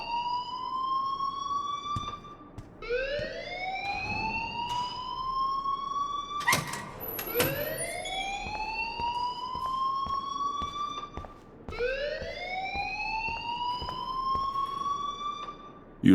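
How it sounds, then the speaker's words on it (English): Fire alarm in the Life is Strange video game, a repeating rising whoop-style wail that climbs in pitch over about two seconds, cycles several times with short breaks, and is moderately loud with no talking. "please turn off that alarm since that's your job"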